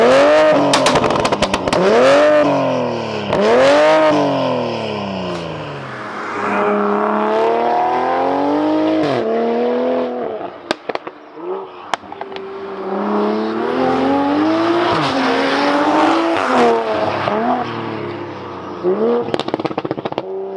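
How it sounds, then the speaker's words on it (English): A hybrid-turbo MK5 Toyota Supra is fired up and driven, its engine revving hard in rising and falling sweeps, with crackles and brief lifts between pulls, loud and close. "I think let's get it fired up."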